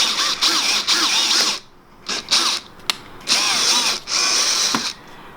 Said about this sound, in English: now that we drilled the hole onto the bumper of the truck